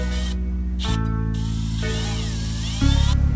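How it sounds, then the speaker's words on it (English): A power drill bores into a broken bolt on a Nissan 350Z transmission mount, its motor whining at a steady pitch that steps up and changes load, loud and close for a few seconds. "try to remove as much of this broken bolt as possible using different size drill bits"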